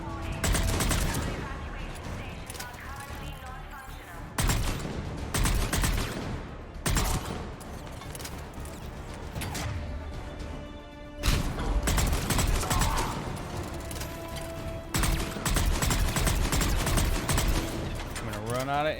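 Bursts of rapid gunfire and fusillades crack through a Mass Effect 3 firefight, coming in repeated loud clusters broken by short pauses, with someone speaking at points between the volleys.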